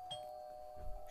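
A short bell chime in the Fishdom puzzle game, a faint single ringing ding with a lingering tone over quiet background.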